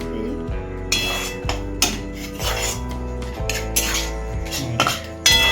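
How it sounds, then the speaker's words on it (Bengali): Metal spoon scraping and clinking against a hot pan while gram flour (besan) is stirred and dry-roasted, a steady series of clanks and taps close by under a low background hum. "বেসনটা আমি নেড়ে নিচ্ছি কারণ এখন বর্ষার দিন স্যাঁত স্যাঁতে ভাব হয়ে থাকে"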